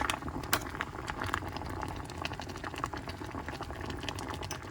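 Orange sweet potato, kamote, boils in a pot with a quiet, busy bubbling and rapid rattling clicks that run steadily throughout, close and faint, with no voices.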